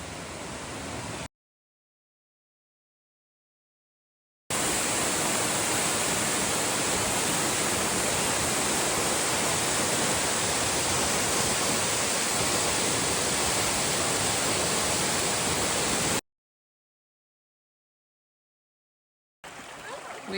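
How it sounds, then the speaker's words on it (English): Little Wilson Creek Falls, a waterfall about 60 feet tall, roars as a steady, loud broadband rush in a long unbroken stretch with brief gaps of silence on either side, and no voices over it. "We are at the bottom of Little Wilson Creek Falls and down at just Little Wilson Creek."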